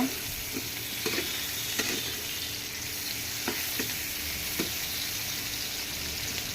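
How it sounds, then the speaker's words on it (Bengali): Onion and green chilli frying in a pan for rohu fish curry with potato, an even sizzle punctuated by periodic scraping stirs, with no voices. "পেঁয়াজ আর মরিচটা আমি লাল লাল করে ভেজে নেব।"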